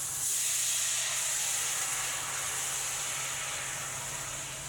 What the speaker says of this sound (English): but I'm going to just rinse the pan off.